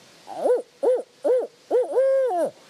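A person imitates a barred owl, voicing four clear, separate hoots followed by a longer drawn-out hoot in a steady rhythm, close and alone, with no other sounds.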